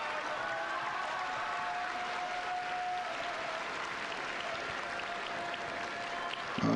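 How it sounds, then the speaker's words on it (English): A sumo tournament crowd at the Aki basho applauds in a steady, moderately distant wash of clapping, with a faint high tone drifting through and a sharp burst near the end. "He's getting tremendous applause and support from the audience here"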